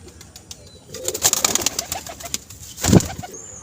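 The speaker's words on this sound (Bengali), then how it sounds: "এই দুটো পায়রা" Pigeons coo softly and chirp nearby at a household pigeon loft, with a brief flutter and a louder call near the end.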